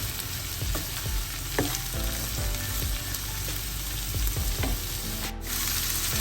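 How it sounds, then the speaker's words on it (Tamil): Chopped shallots sauté in a pan with steady sizzling and frying crackle, broken by occasional scrapes and stirring knocks of a utensil, heard close and continuous without any talking. "சின்ன வெங்காயமும் கொஞ்சம் வெட்டி சேர்க்கிறேன். இது கொஞ்ச நேரம் வதங்கட்டும்."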